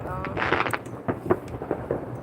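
Illegal aerial fireworks bursting over a Clark County front yard in Las Vegas on the Fourth of July, a run of sharp booms and crackles at moderate distance, with a voice talking faintly underneath.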